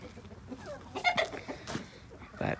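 Chickens clucking in a backyard pen, a few short, moderately close calls and scratchy movements scattered over a couple of seconds, with a louder burst near the end.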